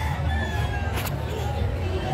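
A gamefowl rooster crows once, a short, fairly distant call heard over the steady murmur of a crowded festival with people talking nearby.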